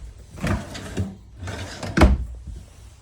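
A pocket door inside a Crossroads Zinger 380FB camper trailer slides along its track in a few scraping, rolling bursts, with a firmer knock near the end as it stops. It is close and fairly loud, with no talk.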